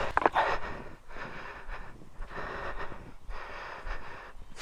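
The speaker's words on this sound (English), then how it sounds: "Excuse the heavy breathing." Heavy, laboured breathing of a motorcyclist, close to the microphone, in several rhythmic in-and-out bursts with short pauses, loud and breathy.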